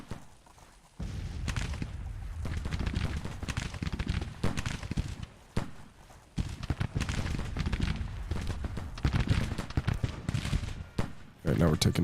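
A Civil War regiment in the game Grand Tactician comes under musket fire: steady crackling volleys and scattered shots, loud and continuous with brief lulls, plus battlefield rumble.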